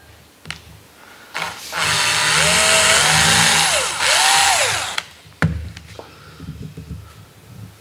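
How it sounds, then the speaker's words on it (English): A power drill whirs loudly for about three seconds while enlarging a hole in an Extra 300 model aircraft, its pitch dipping twice as it bites, with brief clunks and handling noises before and after. "I've just drilled out that diameter to a little bit thicker"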